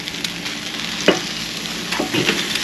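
Chicken wings sizzling as they are flipped on a grill with a Vortex, with a steady frying hiss broken by a few brief scrapes and clacks of turning.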